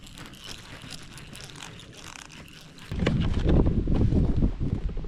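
Wind gusting across a lake during a fall bass-fishing outing, a soft breezy rush that suddenly swells into louder, rumbling buffeting against the microphone partway through.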